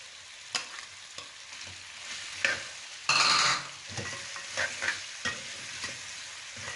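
Chicken sizzles in a karahi as ginger garlic paste is stirred in, with a steady fry underneath and repeated sharp scraping and clanking stir strokes, including one louder burst partway through.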